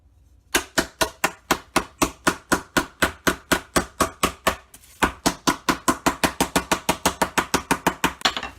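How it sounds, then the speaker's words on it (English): Bittersweet chocolate bars are chopped by hand with a knife, a steady rapid series of sharp, close thuds on a cutting board, pausing briefly midway before continuing at the same even rhythm. "So we need 2 of those, and we need to chop it up."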